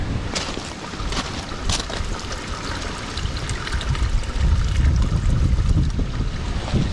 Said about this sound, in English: That's draining water from behind my house.